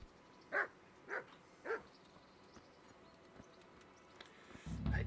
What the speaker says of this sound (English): It's like the only sound effects they've put into it is barking